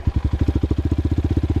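A CSC TT250 dual sport motorcycle engine running close by, a loud, steady, rapid single-cylinder thumping pulse with no other sound over it.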